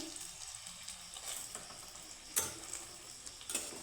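Dough balls fry gently in a pan with a soft, low sizzle, broken by a couple of sharp clicks and scrapes from a utensil.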